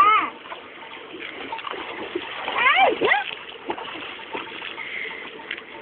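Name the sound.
splashing in dirty water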